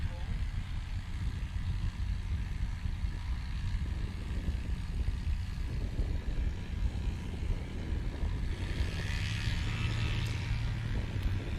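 Murphy Super Rebel propeller aircraft, 2,000 pounds empty, taxiing at a STOL practice event, a steady droning engine and prop rumble under continuous announcer commentary.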